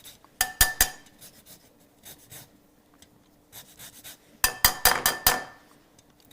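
Two limes zested on a metal grater, two clusters of quick, sharp scraping strokes close by with a few faint rubs between them and a pause in the middle.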